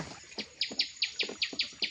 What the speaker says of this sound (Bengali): পাখির শব্দটা খুব ভালো লাগে